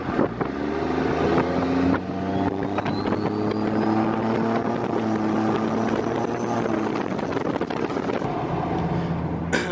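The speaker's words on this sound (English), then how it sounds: "So I'll pull over up here and we'll get a good exhaust clip." A loud, steady diesel truck exhaust drone from a Cummins engine swap with a turbo, deep rumble and rising whine as it accelerates, heard close and continuous.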